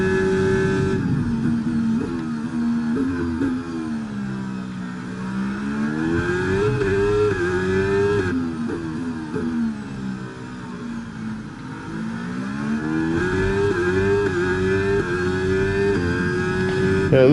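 A car engine revs and changes pitch steadily as it is driven hard, loud and close throughout, with the tone rising and falling through gear and throttle changes and no talk.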